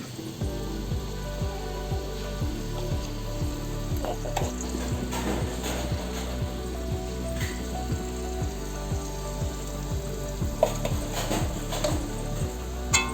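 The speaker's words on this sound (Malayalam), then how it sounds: "നമുക്ക് നന്നായിട്ടൊന്ന് ഇളക്കി ഒന്ന് വഴറ്റിയെടുക്കാം" Chili powder and asafoetida sautéing in hot oil for a rambutan pickle, with a steady close sizzle and regular scraping stir strokes of a spoon against the pan throughout, with no talk.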